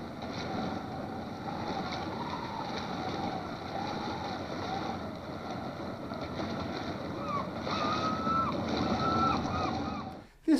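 The tug Primrose chugs along the River Severn and out into the Bristol Channel towing a string of laden barges, a steady engine and water wash under wind, with a faint voice over it.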